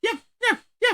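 A voice imitates a wire-haired terrier's yapping bark with three quick, sharp, evenly spaced yaps.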